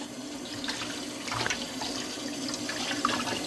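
Parai (trevally) fish is rinsed under a running kitchen tap, a steady close stream of water with splashing and small handling sounds.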